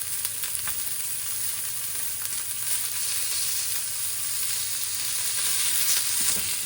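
Previously simmered beef shank is frying in a pan, giving off a loud, continuous close sizzle with faint stirring, and no voices.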